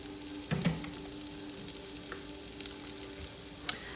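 Drained ground beef goes back into a hot pan with a short sizzling burst, then settles into faint, quiet frying crackle.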